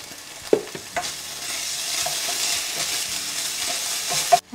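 Garlic, onions and chopped red chili fry in a pan with a steady, close sizzle, broken by a few sharp knocks and scrapes of stirring at the start and end.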